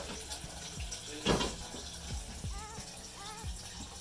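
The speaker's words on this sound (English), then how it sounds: "why is she filling the jug with water?" Tap water runs into a jug at a kitchen sink for a cake recipe, a steady wash of flow with a louder splash near the start and faint rattles and background noise throughout.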